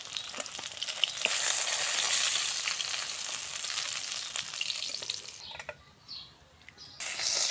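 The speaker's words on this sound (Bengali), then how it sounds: "বন্ধুরা বাকি যে কয়টা ছিল সেই কয়টা আমরা ভাজে নেব।" Tilapia fish fry in oil with a steady, busy sizzle and spatter that dips briefly toward the end before surging back up.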